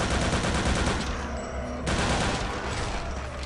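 Rapid, dense gunfire from the retro WWII shooter Return to Castle Wolfenstein fills the whole stretch: loud, continuous bursts with sharp reports piling over one another and no talking.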